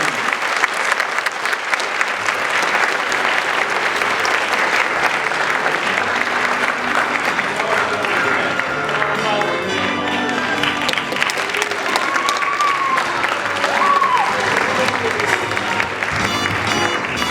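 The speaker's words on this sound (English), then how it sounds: "One more round of applause for them." Sustained audience applause following a junior production of the musical Finian's Rainbow performed by children, steady clapping throughout with crowd noise and faint voices mixed in.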